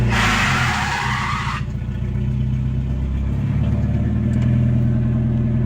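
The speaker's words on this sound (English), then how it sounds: "We about to get a cold start." A Mazda Miata with a new exhaust fires up from cold: a short burst of starter noise, then a low, loud, rumbling idle that settles into a steady, slightly uneven burble.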